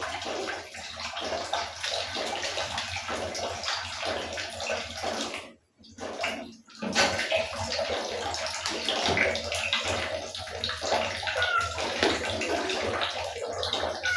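Water drips and trickles continuously, fairly loud and close, leaking indoors, with a brief pause partway through before the flow resumes.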